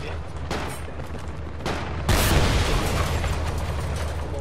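A heavy explosion from a hit in the military shooter game Project Reality, with a sudden loud boom over constant rumbling battle noise and earlier distant pops, during a helicopter assault.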